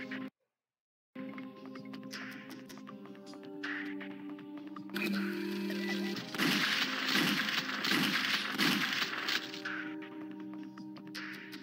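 Gunshots in the video game Alien Trilogy. Several muffled blasts in a quick cluster sound over steady electronic game music, fairly faint overall.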